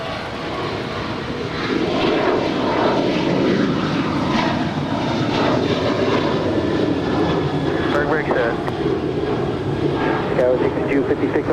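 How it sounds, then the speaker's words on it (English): An American Airlines Boeing 737-800 bound for Chicago O'Hare heads for takeoff on the south side of Los Angeles International, a loud, steady jet roar that swells after the first couple of seconds, under radio chatter and talk. "our next departure here on the south side is American Airlines Flight 669 heading to Chicago O'Hare. It's a 737-800"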